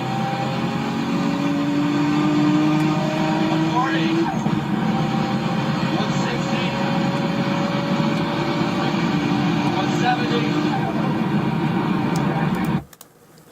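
A turbocharged car engine with a boost leak and a slow blow-off valve, a steady droning run with a rising tone, brief hissing releases partway through, and an abrupt cutoff near the end.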